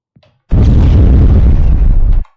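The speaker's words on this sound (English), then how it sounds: "that's exactly what's happening, it's already exploding" A mine detonates in an Unreal Engine 5 game, one loud, sudden booming blast that holds for nearly two seconds and then cuts off sharply, heard alone.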